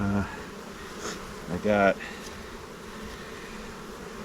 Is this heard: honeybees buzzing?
yes